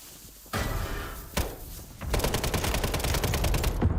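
A mortar blast in the Warzone video game: a sharp impact with a broadband burst, followed by dense rattling gunfire and rumbling explosions that fill the rest of the clip at close range.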